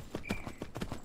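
Horse hooves clip-clop in a quick, steady rhythm in the video game Myth of Empires, a restless horse with a faint whinny tone mixed in, close and fairly quiet.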